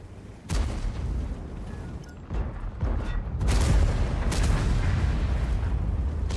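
Artillery guns in World of Tanks fire heavy booms, with a sharp blast early on and more deep rumbling shots later that roll into a continuous low thunder of battle.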